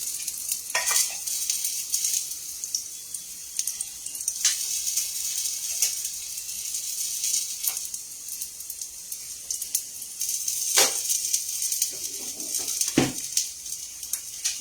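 Besan paneer chila fries in oil in a pan, a steady close hiss of sizzling with occasional sharp spatters and light clicks of a spatula.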